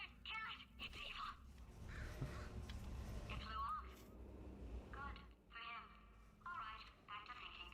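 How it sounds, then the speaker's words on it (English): A bird in the video game Portal 2 caws in repeated harsh calls, several bursts spaced apart, mixed with game sounds and talk. "Bird! Bird!"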